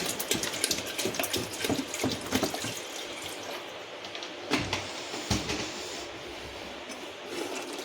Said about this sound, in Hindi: अब इसमें डालेंगे पानी, अभी पानी लगेगा।